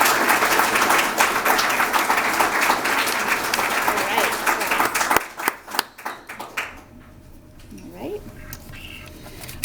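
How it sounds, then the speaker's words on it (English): A crowd at an annual meeting applauds loudly and densely, then the clapping thins into a few scattered claps and dies away, followed by quieter room sound with a voice. "doesn't mean we can't give him a round of applause and congratulate him"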